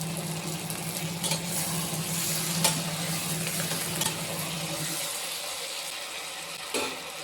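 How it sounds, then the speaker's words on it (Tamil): Tomatoes and onions sauté in a pan for a tamarind onion curry, a steady close sizzle with occasional spoon scrapes and clinks that quiets toward the end. "இது நல்லா வதங்குது இப்போ தக்காளி வெங்காயம் எல்லாம் வதங்கி வந்துருச்சு"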